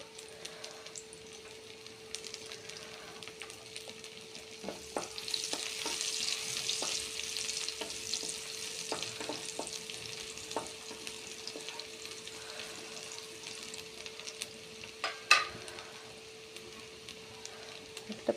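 Finely chopped garlic frying in mustard oil, a soft low crackle with scattered ticks and spatula clicks, a steady background hum, and a sharper clatter near the end.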